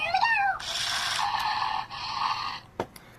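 A Zhu Zhu Pets electronic toy hamster plays its chirpy synthetic sounds: quick warbling squeaks, then a sustained buzzy electronic tone with a brief break, ending in a few short clicks, close and with no voices.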